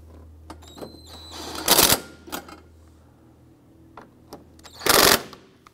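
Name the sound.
tightening torque strut components on an Acura TL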